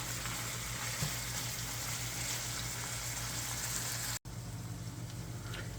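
Ground hamburger meat frying in a pan sizzles and crackles steadily with a low hum underneath, briefly cutting out for a moment before the sizzle resumes.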